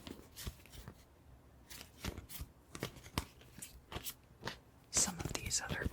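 Tarot cards shuffled and handled at close range in a quiet room, with soft papery flicks and taps in scattered bursts and a sharper rustling flurry near the end.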